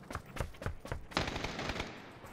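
Rapid automatic gunfire in the battle royale game PUBG, with several short bursts of sharp cracks and then a louder, denser volley, heard close and without speech.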